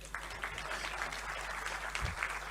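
A crowd applauds at a political speech, the clapping faint and distant, a thin, continuous patter of hands with a low background hum.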